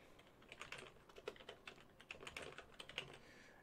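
A computer keyboard clatters with quick, irregular keystrokes as details such as a VIN and zip code are typed in, soft and close in a quiet room.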